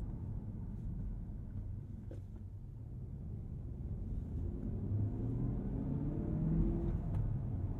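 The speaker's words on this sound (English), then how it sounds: "I'm really just breezing on the throttle" A 2023 Cadillac CT5-V Blackwing Anniversary Edition with manual gearbox cruising on light throttle, its engine a steady low rumble with mild road and wind noise, swelling slightly toward the end.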